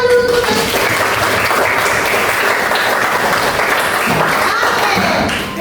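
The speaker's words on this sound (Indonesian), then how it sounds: "Tepuk tangan dulu." A class of sixth-grade pupils gives a sustained round of dense, loud applause that fills the room steadily from start to finish, with a few voices faintly mixed in.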